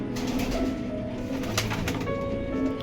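Pigeons coo in a steady, low rolling murmur from several nearby birds, overlapping with soft wing shuffles at a loft where pigeons are kept for flying.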